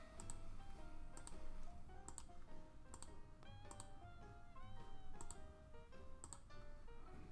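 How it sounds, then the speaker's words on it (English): A computer mouse clicks sharply and close, in a steady series of single taps about every half second, with faint electronic tones running beneath. "Let's click around."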